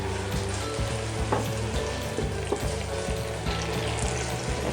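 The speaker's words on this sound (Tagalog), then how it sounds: "magpainit na tayo ng oil. Igisa natin yung sibuyas. Palambutin muna natin to." Onions sautéing in hot oil in a pan for bopis, a steady close sizzle with repeated clinks and scrapes of stirring throughout.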